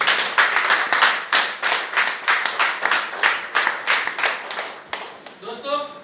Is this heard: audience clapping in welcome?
yes